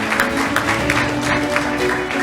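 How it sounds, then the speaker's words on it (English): Sustained applause from an audience at an SME business excellence awards ceremony in India, steady and dense with scattered claps standing out, running under a low background tone. "Let the applause continue,"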